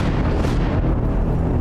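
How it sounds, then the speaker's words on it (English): A ship explodes in the space sim X4 Foundations with a loud, close, rumbling boom that fills the whole moment and rolls on without a break. "Explosion imminent."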